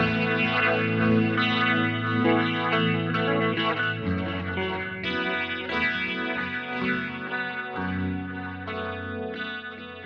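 Electric guitar through a Fractal FM3 modeler's Centrifuge preset, with a heavily processed, chorused and distorted tone, plays chords and shifting notes, full and continuous throughout.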